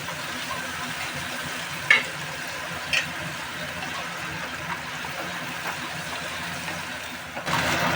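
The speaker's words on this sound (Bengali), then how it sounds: "কাঁচা লঙ্কা দিয়ে দেওয়ার পর আমি আবারও একটু ভালো করে নাড়াচাড়া করছি" Green chillies fry on a high gas flame while being stirred, a steady close hiss with two sharp spoon knocks early on and a louder burst of sizzle at the end.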